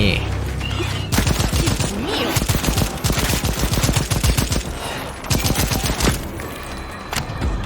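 Rapid bursts of automatic gunfire in the co-op shooter Second Extinction, loud and near, crackling steadily across the whole stretch with brief pauses between volleys.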